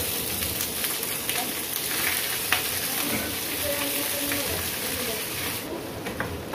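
Papaya being sautéed with sardines in a pan, a steady close sizzle and crackle of frying with occasional stirring scrapes, continuous and fairly loud.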